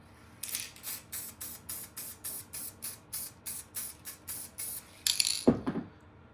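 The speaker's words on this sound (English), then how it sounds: "what I'll do, I'll spray it on, I think." A spray can of paint hisses in a quick series of short, even bursts, about a dozen in a row, followed by a clatter nearby, while painting a model railway hillside.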